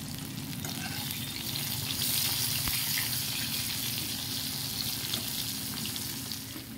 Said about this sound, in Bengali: তাতেই বেগুনগুলোকে দিয়ে একটু ভালো করে ভেজে নেব।